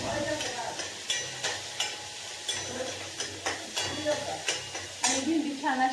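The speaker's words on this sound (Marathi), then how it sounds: "कांदा आणि मिरची टाकून घेऊया कांदा मिरचीला चांगलं करून घ्यायचं आपल्याला" Chopped onion and green chillies fry in a pan while a spatula stirs them in a steady rhythm, giving quick scrapes and clinks over a soft, constant sizzle close by.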